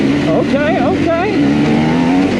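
Kawasaki KLX 140G dirt bike chugging up a muddy trail, its engine a steady, close drone with rising and falling pitch swoops as the throttle works, heard under excited voices.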